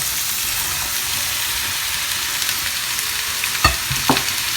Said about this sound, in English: I'm going to shallow fry or roast these both vegetables together.